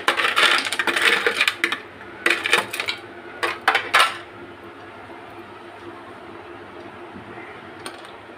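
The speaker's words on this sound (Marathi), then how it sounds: "आणि मी आता त्यामध्ये आईस क्यूब घालते." Ice cubes clinking and clattering into a glass of homemade Alphonso (hapus) mango fruity drink, a quick flurry of sharp clinks over about four seconds, then near quiet with one last faint tap.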